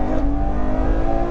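A Ferrari 812 Superfast's 6.5-litre V12 revs hard and close, a loud, dense, tonal howl with strong harmonics held steadily through the brief moment.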